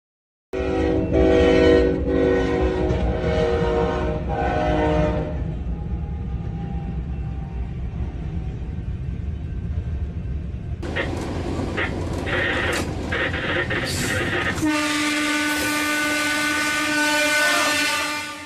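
A train pulls into a station with loud, sustained horn blasts over a heavy rumble of rail noise, followed by high screeching brakes and a renewed horn-like blare near the end.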